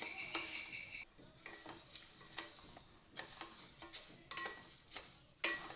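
Sorghum (jowar) grains dry-roasting in a pan, with intermittent scraping and stirring strokes and light ticking crackles as the grains puff, moderately close and fairly quiet, no talking.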